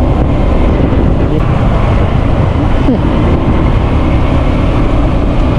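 A Honda Zoomer X scooter rides along roads in the Philippines, its steady low engine rumble buried under constant loud wind buffeting on the mic, with no talking.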